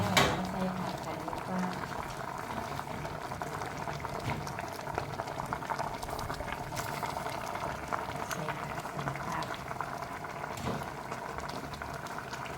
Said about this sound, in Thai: หมอเดือดแล้วจ้า